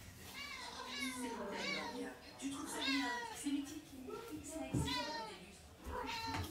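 A pet cat meows insistently at a door, a run of loud, drawn-out wavering calls close by, repeating every second or so over a low background of room noise.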